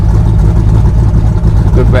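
A Ford small-block V8 in a Factory Five Cobra idles near 800 rpm, a loud, steady low rumble filling the short moment with no break.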